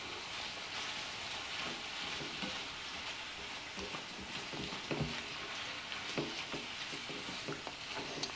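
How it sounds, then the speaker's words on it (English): Lean 85% ground beef browning in a pot for a one-pot taco spaghetti, giving a steady soft sizzle with scattered faint stirring scrapes and no talking. "So I'm gonna go ahead and let this continue to brown."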